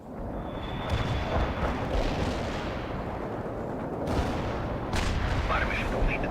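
Anti-tank strike explosions in the World in Conflict strategy game, a dense rumbling barrage of blasts with sharp bursts near the start, around four seconds and around five seconds, over constant battle noise with radio voices in the mix.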